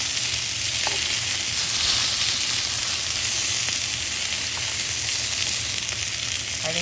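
Chicken fajitas fry in hot oil in a pan, giving a steady, close sizzle that holds evenly from start to finish with no voices.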